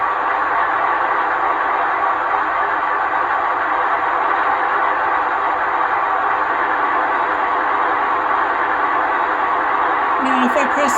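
Two Aristocraft Napa Valley Wine Train PA model diesel locomotives with Zimo sound decoders both run at once, a steady droning engine hum that holds level throughout, with a brief higher chirp near the end.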